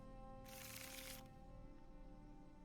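A digital card shuffle in the Magic: the Gathering video game, a single short burst of riffling that lasts under a second over a quiet, steady background.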